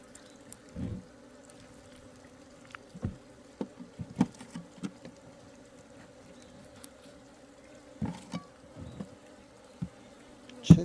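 Honeybees are heard at feeding time, faint and close, with scattered short buzzes and light tapping over a quiet background and no voices.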